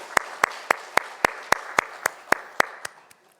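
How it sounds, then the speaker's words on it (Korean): Evenly spaced rhythmic clapping from a church congregation at a Sunday worship service, about a dozen sharp unison claps in a steady beat, fading out at the end. "하나님 앞에 영광의 박수 올려드리겠습니다."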